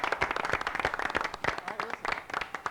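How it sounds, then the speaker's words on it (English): A television game show studio audience breaks into applause. The clapping is brisk and close, with sharp claps packed into a lively burst and a few voices mixed in. "Round of applause."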